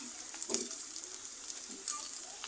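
Egg paratha fries in a pan with a faint, quiet sizzle, broken by a few sharper crackles and pops.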